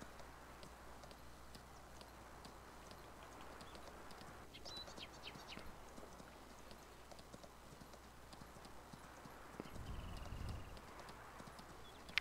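In Farming Simulator 19, a horse's hooves clip-clop in a steady, quick rhythm as it is ridden around a farm, fairly faint, with occasional bird chirps and a low background hum.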